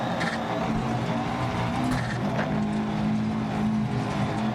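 Rally car engine from Dirt Rally 2.0 on a Finland gravel stage in the Flatout Trophy, droning steadily and loudly throughout a quick jump, with a sustained low growl and no distinct landing impact.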